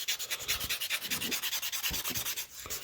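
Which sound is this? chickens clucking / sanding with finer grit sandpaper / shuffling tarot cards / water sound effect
sanding with finer grit sandpaper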